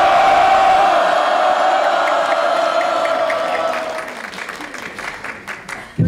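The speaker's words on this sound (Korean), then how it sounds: "자, 시작하면은 우렁차게 와를 해주시기 바랍니다." A large crowd at a rally for the successful hosting of the PyeongChang Olympics lets out a loud, sustained unison shout, roaring strongly at first and then fading into scattered cheers and claps.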